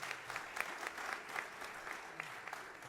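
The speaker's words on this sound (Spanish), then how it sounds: "para quien pido un aplauso" A small audience applauding a guest on a podcast about the 1929 novel Novilunio, steady light clapping, quiet and somewhat distant, lasting under three seconds.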